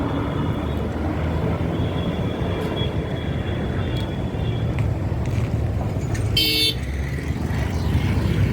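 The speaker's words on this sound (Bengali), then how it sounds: "আর এই বাইপাস থেকে যে গাড়িগুলো যাচ্ছে।" Traffic passing on the Kolkata bypass road beside a service road, a steady loud roar of vehicles with a brief horn toot near the end.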